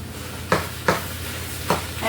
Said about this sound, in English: Just chopping down my meat.